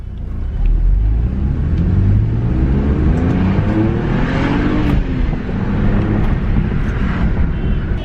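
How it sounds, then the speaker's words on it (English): BMW N54 twin-turbo engine, just fitted with new boost solenoids, revving hard under throttle: a loud, continuous roar with rising and falling pitch sweeps across the whole stretch, no talking over it. "All right, guys, we're gonna give this some gas."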